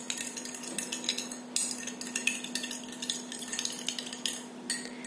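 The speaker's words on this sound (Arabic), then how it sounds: "حرك" Spoon clinking and scraping in a glass of orange juice with vanilla sugar, a run of quick, light metallic taps and stirring strokes up close, steady and fairly quiet with no talk.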